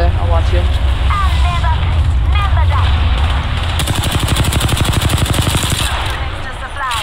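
Rapid automatic gunfire in the video game Apex Legends, a long, loud, evenly spaced stream of shots in the second half, with players talking over it.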